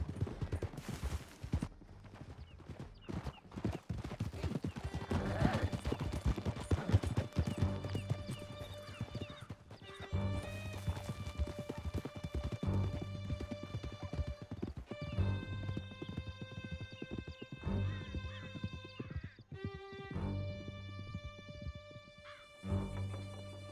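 Several horses gallop hard with steady, driving clip-clop hoofbeats through a Red Dead Redemption 2 ride, with whinnies and neighs rising over the pounding, and a faint burst of gunfire in the mix.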